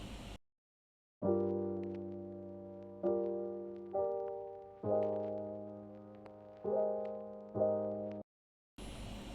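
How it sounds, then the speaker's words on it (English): A melodic water sample from a Cymatics sample pack plays as a sequence of sustained tonal notes, each starting sharply and decaying, about six notes with brief gaps and silence at start and end. "Then I took the water sample and I thought this would be a good main point for the beat, the key sample"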